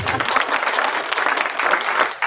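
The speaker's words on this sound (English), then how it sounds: "Give him a round of applause." An audience applauds together at a Sunday church service, giving a steady, dense burst of clapping that lasts a couple of seconds.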